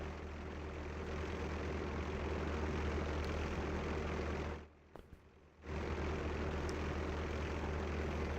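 Steady propeller-engine drone of a WWII Spitfire fighter in the WWII Online video game, a continuous low hum that cuts out briefly midway before resuming, with no talk.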